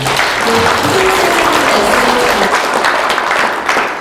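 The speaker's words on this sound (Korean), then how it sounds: "이 자리에 계신 분 박수 한번 쳐주시죠" A large audience claps steadily and loudly throughout, a dense wash of applause with no pauses.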